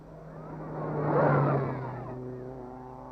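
A Lancia Fulvia rally car at the 1969 East African Safari Rally drives past, its engine note swelling to a loud peak near the middle and then fading as it moves away.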